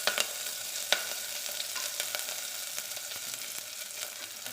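Cumin, a red chili, bay leaf, curry leaves and garlic sizzle steadily in hot oil in a pan, a soft continuous crackle with scattered sharper pops throughout.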